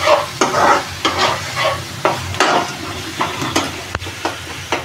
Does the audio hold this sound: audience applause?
no